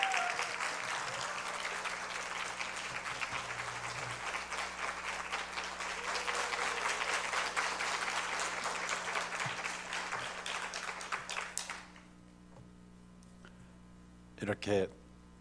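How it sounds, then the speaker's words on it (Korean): Sustained applause from a large church congregation welcoming a pastor fills most of the stretch, then fades out, leaving near silence with a couple of brief thumps at the end. "우리 박수"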